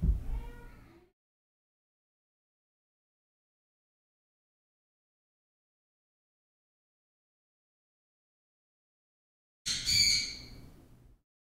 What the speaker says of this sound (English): That bird, he's getting a little squeaky.